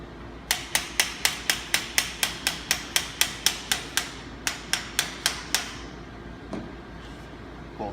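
A hammer fitted with a plastic piece taps against the side of a NorthStar flat box brake handle assembly, striking about eighteen rapid, evenly spaced sharp knocks at close range before stopping, followed by a softer clunk.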